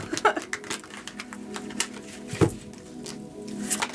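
Tarot cards being shuffled during a reading, a soft, irregular papery patter of cards riffling and sliding together, close and fairly quiet, with scattered small taps and no talking.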